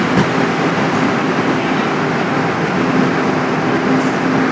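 Steady, loud rumble of riding aboard a fast, somewhat shaky Taroko Express train in Taiwan, a continuous broadband roar with faint tonal hum and no clear speech.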